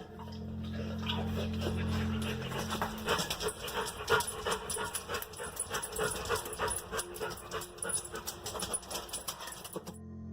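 An animal pants rapidly inside a sewer, a quick, breathy, rhythmic huffing that starts after a low hum fades and goes on, faint and echoing, to the end.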